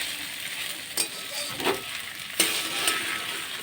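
Sago fries gently in a pan on a low gas flame: a continuous close sizzle broken by a few sharper scrapes and clinks of stirring, with no voices.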